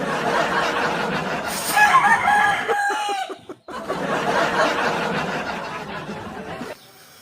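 A chicken crows and clucks close by in a rural irrigated area in the Philippines. The loud crowing stands out near the middle, and the birds keep clucking before and after it.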